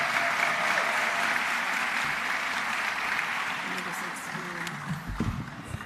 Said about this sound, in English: please give each of the finalists at the regional level a round of applause.